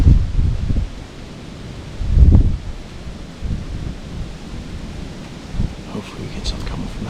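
Wind gusting through the trees during Pennsylvania bow season, heard as a steady broadband rush with swelling gusts and rustling, loud and close against the microphone.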